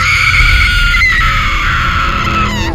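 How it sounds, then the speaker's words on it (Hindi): Screaming in a Hindi horror story, with a loud, sustained high-pitched cry for help that holds steady for almost three seconds over a dense, rumbling background. "तब अमेलिया और जॉर्ज बचाओ हमें बचाओ करके चिल्लाने लगे"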